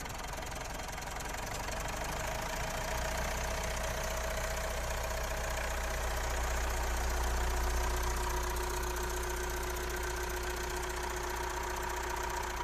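A car engine at idle, running off a jump-start from a weak battery at a Palembang vehicle auction, gives a steady, close, continuous hum with a faint ticking knock, alone throughout.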